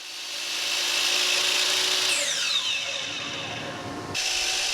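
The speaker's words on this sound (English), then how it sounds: "it was time to head over to the miter saw" A miter saw whines at high speed and bites into wood for an angled 60-degree cut on a mountain-shaped shelf, the motor pitch sagging under load before the blade spins down and restarts, loud and close.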